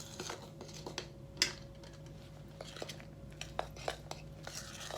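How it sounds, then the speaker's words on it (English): Scone batter being mixed by hand in a bowl after the wet ingredients go in, with soft scraping and light clinks of a utensil against the bowl, fairly quiet and irregular, with no talk. "I'm going to give it a good mix"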